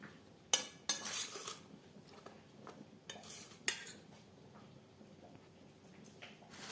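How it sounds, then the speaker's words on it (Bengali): Cut potatoes for French fries are mixed in a bowl, heard as quiet, close, scattered clinks and taps of a utensil against the bowl with soft rustling between them. "আলুতে যে জল আছে তাতেই বেশ ভালো করে মাখা হয়ে যাবে"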